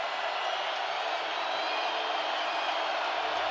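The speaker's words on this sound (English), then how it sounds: "You can hear the crowd here in Seattle" Stadium crowd noise from a packed Seattle football game roars steadily throughout, a dense, continuous wash of cheering and shouting with no break or quiet moment.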